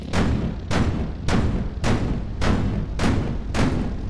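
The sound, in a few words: 45mm guns firing in Sprocket video game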